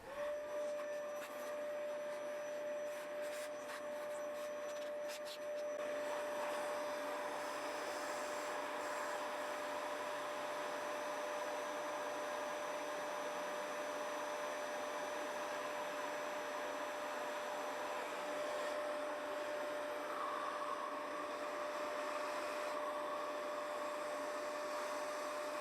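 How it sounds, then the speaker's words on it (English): A Dyson vacuum cleaner runs continuously as it hoovers, a steady whooshing roar with a thin, constant whine on top, holding at an even level for the whole stretch with no talking. "let's give this a bit of a hoover up I think,"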